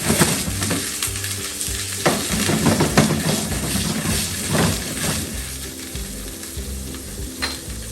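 Shrimp sizzle loudly in hot butter in a pan while being stirred, a dense close frying hiss broken by scraping utensil strokes, with no talking.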